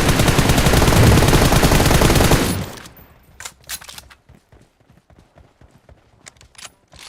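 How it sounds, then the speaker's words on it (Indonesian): A loud, continuous spray of automatic gunfire in the mobile game PUBG Mobile, stopping abruptly after a couple of seconds and followed by scattered faint clicks and footsteps. "Tembak dulu sekali."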